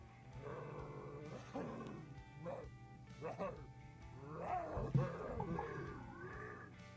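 Low, raspy zombie growls in the video game Randal's Monday come in repeated bursts, with a voice talking over them and a steady background hum.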